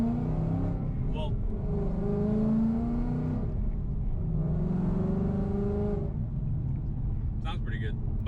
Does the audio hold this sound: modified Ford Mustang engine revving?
yes